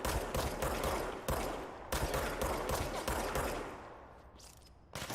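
Rapid bursts of automatic gunfire from the PC video game Control, Ultimate Edition, loud and close, firing almost continuously for several seconds before trailing off briefly and resuming at the end.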